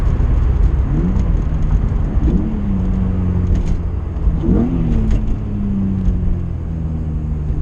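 A car engine revs in quick blips during heel-toe downshifts in traffic, three sharp rising revs each settling back to a steady drone under constant loud road and engine rumble.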